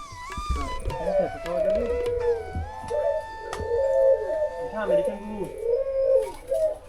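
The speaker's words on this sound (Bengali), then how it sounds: "কবুতরের খামার।" Repeated soft, throaty pigeon coos overlap one another at close range in a pigeon loft at a crocodile farm, rising and falling in a steady murmuring rhythm with a few other faint bird calls.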